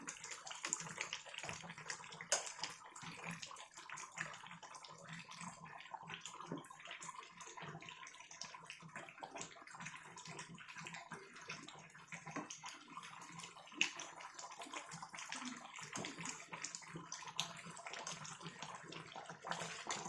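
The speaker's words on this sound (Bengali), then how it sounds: "তো রসুনটা আর আদাটা এরকম তেলের ভেতরে দিয়ে দেবো" Garlic and ginger fry in hot oil with a faint, continuous sizzle and scattered small crackles, quiet and steady throughout.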